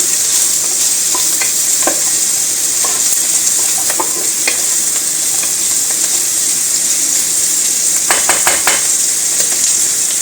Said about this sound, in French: Remuer un petit peu pour pas que ça crame.